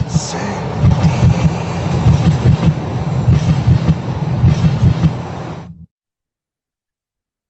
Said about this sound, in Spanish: Ese ruido hace el subte.